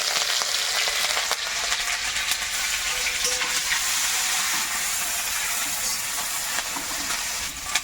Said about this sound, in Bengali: একটু গোটা জিরে দেবো তেলের মধ্যে আদা দেবো গ্রেটটা আদা